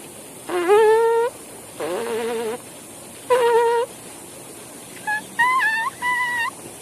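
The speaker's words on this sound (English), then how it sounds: "Just an easy lip buzz." A trumpet player does easy lip buzzing without the horn: a series of short, loud, reedy buzzed tones, some sliding and some held, with brief pauses between them.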